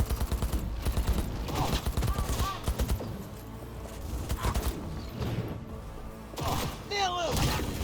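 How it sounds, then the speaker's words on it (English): Cyberpunk 2077 firefight: bursts of rapid automatic gunfire, loud and close, broken by pauses, clanks and impacts, with shouting voices in between. "They're opening fire!"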